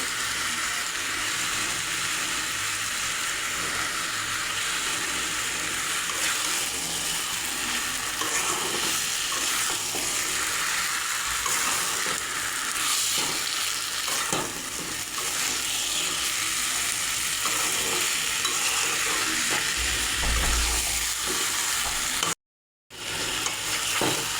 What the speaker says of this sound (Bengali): পাঁচ থেকে 10 মিনিট এভাবে ভালো করে ভেজে নেব মাংসটা।